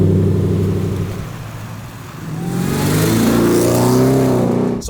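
A Ford Raptor R pickup truck's engine revs hard, dipping briefly and then climbing into a loud, sustained roar close by, with no voices.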